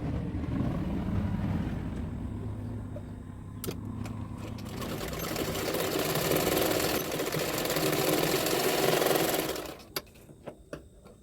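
A sewing machine stitches a double katori blouse (size 34), running in a steady, close whirring burr for about nine seconds before stopping with a few light clicks.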